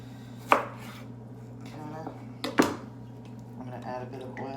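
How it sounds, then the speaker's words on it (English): A knife finely chops vegetables into little sticks for a beef stir fry, giving two sharp knocks on the board a couple of seconds apart over a steady kitchen hum, with quieter scraping between. "I'm just going to kind of finely chop them a little bit so they're like little sticks."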